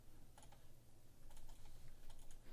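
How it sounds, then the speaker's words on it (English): Arrow keys on a computer keyboard are tapped during UI design work, giving a few quick, soft clusters of clicks over a low background hum, with no talking. "so maybe I'll just use my keyboard arrow keys."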